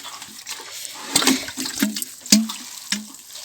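Water from a shower-head sprinkler splashes onto strawberry seedlings set in shade, with a soft trickling bed broken by several close, irregular bursts and spatters.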